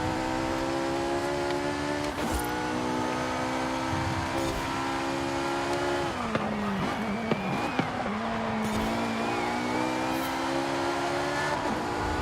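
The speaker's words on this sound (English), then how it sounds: "Yo, the FXK Evo is such a good car." An FXK Evo racing car driving in Forza, all-wheel drive with 93% rear differential, engine droning steadily at high revs with gear shifts and pitch swings through a sweeping turn, tyres faintly squealing.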